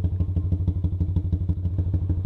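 A motorcycle engine idles close by in a rapid, even thumping putter, loud and steady for a couple of seconds, ready to head off around town.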